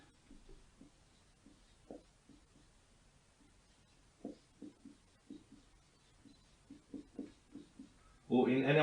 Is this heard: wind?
no